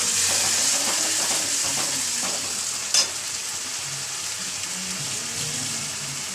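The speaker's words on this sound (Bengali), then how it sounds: "সেই টমেটো কুচিটা দিয়ে দেয়া হলো এবার এটাকে একটু কষাতে হবে" Chopped tomato frying in oil in a pan for koi fish curry, a close steady sizzle with stirring scrapes and one sharp knock partway through.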